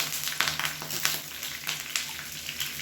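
Peanuts and curry leaves fry in hot oil with chillies for lemon rice, giving a close, steady sizzle broken by irregular sharp crackles and pops.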